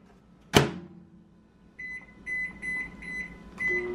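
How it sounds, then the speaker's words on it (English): A microwave oven hums with repeated electronic beeps after a sharp knock or door clunk at the start; the beeps come in a steady series, moderately loud. "While the microwave is obnoxiously going"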